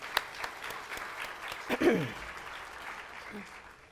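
Applause for college trustees at a community celebration in a theater, a short spell of clapping from the audience that is soft and fairly distant and stays fairly even throughout.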